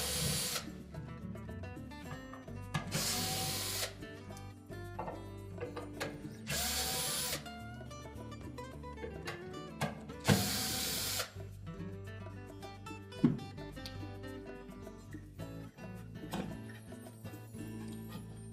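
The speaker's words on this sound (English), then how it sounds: "Next we'll need to remove the 4 screws that secure that bushing" Power tool running in repeated bursts while removing the four screws that hold the bushing on a Whirlpool dryer, with three short loud whirring pulses over a steady mechanical hum and ratcheting clicks, close up and with no talk.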